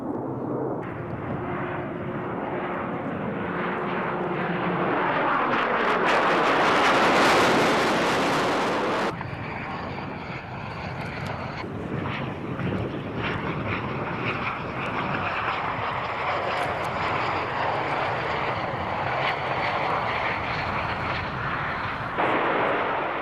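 B-2 stealth bomber at an airshow at RAF Mildenhall, its jet engines roaring loudly and swelling as it passes, then a long rumbling fade in the distance.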